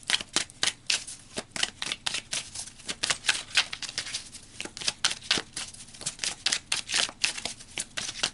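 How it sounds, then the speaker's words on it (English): Tarot cards being shuffled by hand at close range, a quick, steady run of crisp riffling flutters and slaps repeating throughout, with no talk. "let's pull some more cards."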